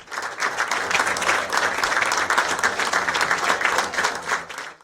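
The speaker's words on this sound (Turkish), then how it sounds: "ve Yönetim Kurulu Başkanı Salihcan Doratlı, basın temsilcileri ve dostları alkışlarla karşıladı." A crowd of press and friends claps steadily and warmly, welcoming someone released from prison, dense applause that holds at an even level throughout, with no speech over it.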